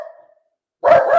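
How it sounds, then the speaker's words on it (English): A pet dog gives two loud, close barks in quick succession after a near-silent pause, with a faint tonal sound fading out at the start. "Hey, Rocky, what are you barking at?"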